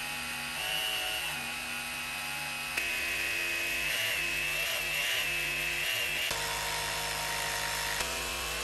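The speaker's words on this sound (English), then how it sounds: "Should be able to cut them out, no problem with a jigsaw." A power jigsaw cuts out pieces for a knife sharpening jig, its motor giving a loud, steady high whine that starts, pauses and restarts in sustained runs with a buzzing blade.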